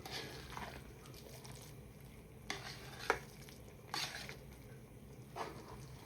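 A spoon works through a chicken dish simmering in coconut milk in a pot, giving faint sizzling and a few scattered scrapes and taps against the pot, quiet and close.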